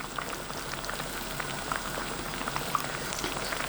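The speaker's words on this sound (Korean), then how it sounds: "아니 맛있게 끓고 있네." Pork kimchi stew boiling in a pot, a steady close bubbling with occasional small pops and no voices.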